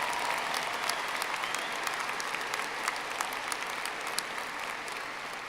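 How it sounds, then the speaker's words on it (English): A university commencement audience applauds ROTC graduates, sustained dense clapping from a large crowd, steady and even throughout, no speech over it. "Please give them a round of applause."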